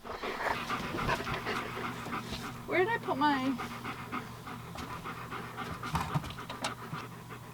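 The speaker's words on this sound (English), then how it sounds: "We've got some happy dogs." Several happy dogs pant quickly and steadily close by, with a brief whimper partway through, while a person talks over them.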